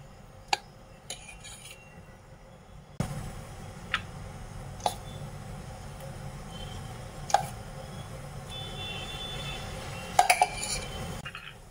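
Metal idli steamer plates stacked one on top of another, a series of sharp, well-spaced metallic clinks and taps over a quiet, steady background hiss, with no talking.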